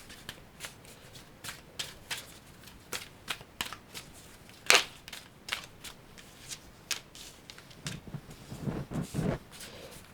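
Tarot cards are riffled and shuffled in quick, crisp bursts with soft flutters and taps between them, close and fairly quiet, with no talking.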